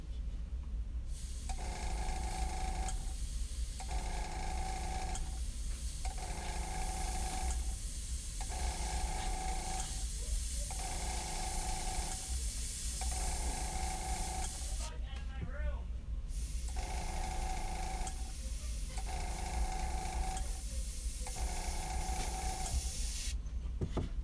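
An airbrush spraying paint onto an eagle walking staff gives a steady airy hiss. A rhythmic mechanical hum pulses on and off beneath it, probably the compressor, and runs throughout the clip.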